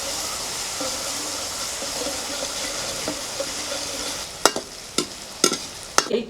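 Garlic and onion sizzling steadily in oil in a kadhai, then several sharp clattering stirs and scrapes toward the end, close and fairly loud.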